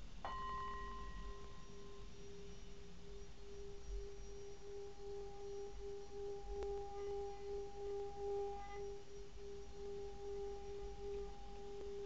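A singing bowl holding water rings with a steady sustained tone and faint overtones, swelling and wavering slightly as it is played, quiet and alone with no talk.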